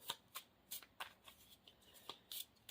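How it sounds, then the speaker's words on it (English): A deck of Marvel Champions cards is shuffled by hand in a quiet room, a series of quick crisp riffling bursts in an uneven rhythm, close and fairly faint. "we have to shuffle in our obligation card"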